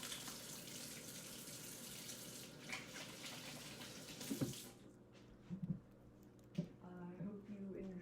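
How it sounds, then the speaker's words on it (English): Hands are washed under a running kitchen tap, a loud steady gush of water that cuts off partway, followed by a few drips, clatters and light handling sounds nearby. "let me wash my hands really quick"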